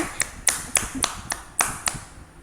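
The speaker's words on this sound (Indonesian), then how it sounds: "Bisa kita berikan tepuk tangan dulu buat keempat narasumber kita yang hebat-hebat ini" A few people clap in short, sparse claps spaced about a third of a second apart, close and crisp, for four guests on a podcast recorded at a prison.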